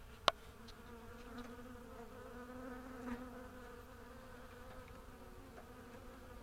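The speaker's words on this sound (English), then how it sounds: "that's a lot of bees." A large swarm of honeybees hums in a steady, dense drone close by, continuous and even throughout, with a sharp click near the start and no voices.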